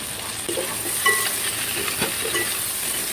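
Onions sizzle and get stirred in a pan with about a kilo of meat, a steady frying hiss broken by scraping stir strokes, close and moderately loud with no talking.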